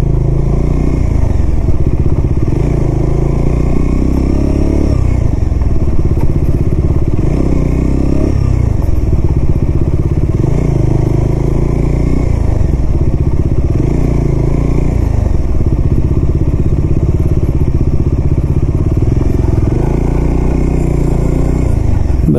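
A motorcycle climbs straight up a hill, its engine a loud, close, steady drone with mechanical clatter throughout and no speech.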